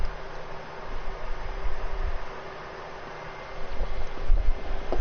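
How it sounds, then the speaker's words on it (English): Two box fans run in a room without air conditioning, one blowing in and the other blowing out, making a steady, breathy whoosh with gentle swells and no talking. "and what you hear are 2 box fans."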